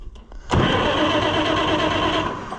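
Oliver 1655 tractor engine turning over on a new starter and catching, a sudden loud roar that settles into steady running close by after a brief quiet lead-in.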